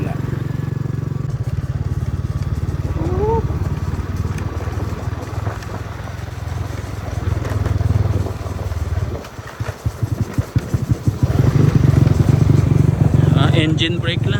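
A heavy truck's engine brake on a dark Metro Manila road, a loud rumbling engine drone that drops away briefly then returns as a rapid, harsh staccato chatter near the end. Voices talk over parts of it.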